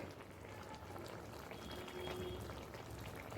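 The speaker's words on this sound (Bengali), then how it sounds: "এক চামচ ঘি দিয়ে দিলাম" A spoonful of ghee goes into a simmering raw banana and potato curry, bringing a soft bubbling and gentle liquid pour that rises slightly partway through, quiet and close with no talking.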